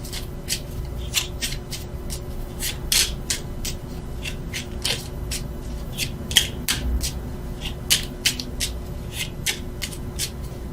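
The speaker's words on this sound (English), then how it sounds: "why I keep shuffling" Tarot cards are shuffled by hand in a series of quick, crisp riffles and slides, close to the listener and in an irregular rhythm, with no talking.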